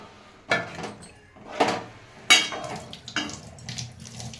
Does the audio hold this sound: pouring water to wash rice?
yes